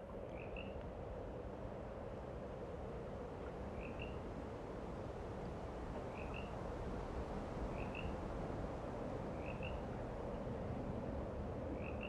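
Frogs croak in a dry riverbed in southern Baja on a morning, repeating short calls roughly every one and a half to two seconds at a moderate distance over a constant low background hum.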